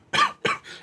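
A voice imitates a character's coughing in a tabletop roleplay: two harsh, raspy coughs close to the mic, then a fainter breathy trailing cough.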